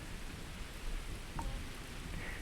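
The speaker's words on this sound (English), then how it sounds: "Oh wait, it's raining." Rain in a freezing thunderstorm in the Starfield video game, a soft, even hiss of falling rain that holds steady throughout, quiet and with no voices.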